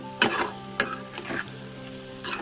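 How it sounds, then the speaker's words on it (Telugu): Dry prawn curry being stirred and fried in a pan, with bursts of sizzling and scraping spoon strokes at irregular intervals over a soft steady crackle, close and clear. "కూరంతా పచ్చి కాకుండా కొంచెం మంచిగా మాడకుండా స్మూత్గా తిప్పుకుందామండి"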